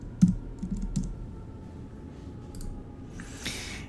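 A few soft keyboard clicks come early as a new track label is typed on a computer keyboard, then it goes mostly quiet with a brief hiss near the end.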